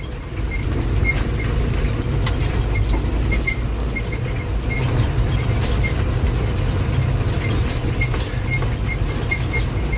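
Trucks driving on a national highway, a steady loud low road rumble and drone heard from inside a moving truck cab, with faint rattles and light jingling over the constant noise.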